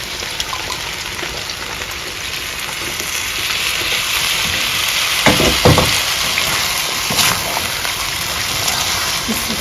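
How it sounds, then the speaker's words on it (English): Coconut milk poured into a simmering fish stew gives a steady, close sizzle and bubbling hiss that swells slightly midway, with a few louder splashy bursts and no talking. "Go ahead and add our coconut milk."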